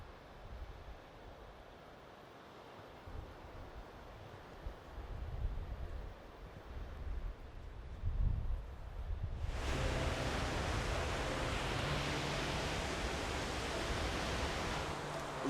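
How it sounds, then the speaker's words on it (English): Ocean waves crash against the shore, heard first as softer rolling surges and then as a loud, steady broadband wash of surf and wind once a bigger break rolls in. "waves crashing against the shore"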